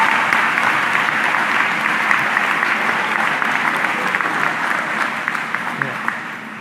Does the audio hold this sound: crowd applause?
yes